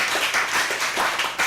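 An audience at a middle and high school program presentation applauds to encourage one another, producing dense, continuous clapping that stays steady and fairly loud for the whole moment.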